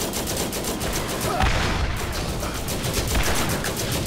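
Turret guns fire in the video game Borderlands as a dense, rapid burst of gunfire that rattles on continuously at close range over a busy game background.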